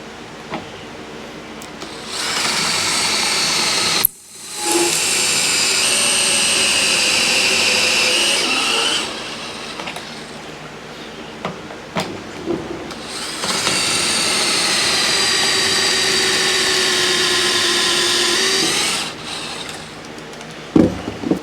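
Two long bursts of a high, whining power drill boring pocket holes through a Kreg Jig XL into wood for a chicken coop feeder frame, each run steady for several seconds, separated by brief clunks of repositioning, with no talking.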